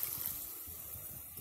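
Water pours into a pan of yellow cucumber and tomato curry, a short steady splashing gush heard alone and close.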